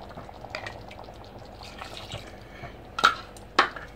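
Chili powder mixed with water is poured into home-made Chettinad chicken masala in a pan. Soft, steady liquid hiss and a faint sizzle build to two louder splashes near the end.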